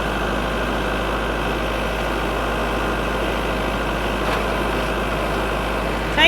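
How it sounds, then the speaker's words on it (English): A tractor engine runs steadily at raised throttle, a constant low rumble holding even for several seconds with no talk over it. "I'm going to raise my throttle, turn the camera around, and put it in medium"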